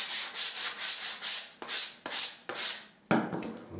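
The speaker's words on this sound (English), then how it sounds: "all you need to do is give it a light rub." Light rubbing of stained interior woodwork: a quick run of rhythmic back-and-forth strokes, then a few slower separate passes. Close and fairly quiet, ending in a duller shuffling sound.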